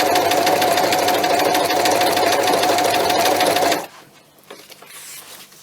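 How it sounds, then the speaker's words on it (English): A sewing machine stitching in a home bedroom, a loud, steady rapid mechanical whir running for nearly four seconds and then stopping abruptly, leaving faint room noise. "Sorry guys, it's going to be noisy, it's a stitching video, sorry."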